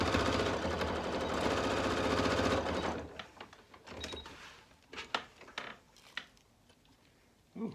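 A sewing machine runs in a fast steady burst for about three seconds, tacking down fabric on a wine carrier, then falls quiet apart from a few soft handling clicks and rustles.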